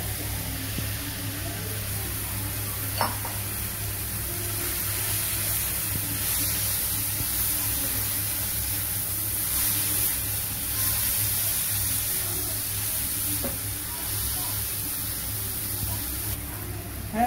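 Green beans (val sheng) hissing steadily in hot oil in a pan, a continuous even sizzle with a couple of faint knocks, close by, no talking.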